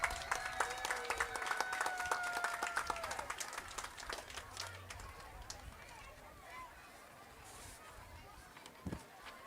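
Applause from a crowd at an outdoor drum band competition after a high school's performance, fairly distant and steady at first, then thinning into scattered claps, with a voice talking over it.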